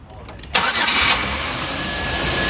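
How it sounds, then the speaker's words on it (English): A 2005 Buick Rendezvous engine cranks briefly and catches, then settles into a steady, fairly loud idle, close by, with a faint whine running over the hum. "You're clear to start your vehicle."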